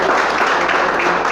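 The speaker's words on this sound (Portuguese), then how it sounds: "Pode aplaudir e glorificar." Dense, continuous applause from a church congregation, steady and fairly loud throughout the short stretch.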